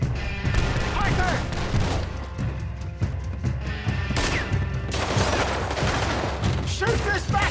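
Rapid gunfire bursts and heavy booms in a Red Dead Redemption 2 shootout, sustained and loud across the clip, with voices shouting over the shots.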